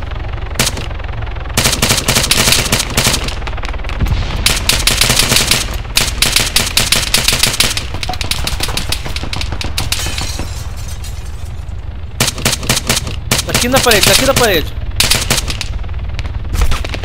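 Rapid bursts of automatic gunfire during an ambush in the video game ArmA 3 King of the Hill, loud and repeated in long volleys with short pauses, and a player speaking briefly between the shots.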